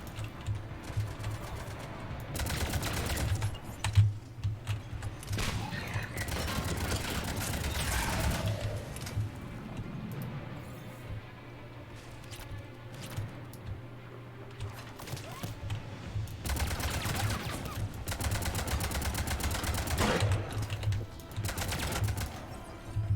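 Gunfire in the video game Mass Effect 3 sounds in repeated rapid bursts over a steady low hum, fairly faint, with quieter stretches between volleys.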